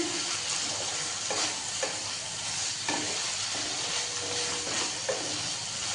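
Potatoes and ridge gourd sautéing in a pan give a steady close sizzle with the scrape and clatter of stirring, no voices over it.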